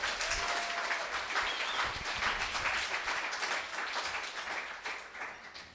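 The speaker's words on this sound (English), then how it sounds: "Is there a little round of applause starting there?" Audience applause at a film-industry talk event for a veteran producer, a dense, even wash of many hands clapping that holds steady and then begins to taper off toward the end.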